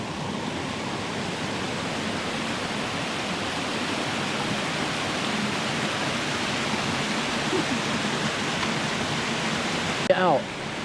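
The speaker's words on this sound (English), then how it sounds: "We made it to the source of the waterfall." Steady broadband rush of a waterfall heard close at its source, loud and continuous throughout, with a brief rustle near the end.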